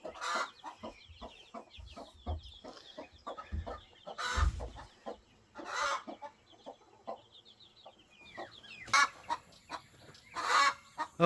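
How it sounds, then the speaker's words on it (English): Rapid, insistent clucking from a defensive mother hen going after a baby chick in a backyard flock, with sharp squawks and honk-like calls breaking in, close and fairly loud. "That mama hen's after that baby chick again"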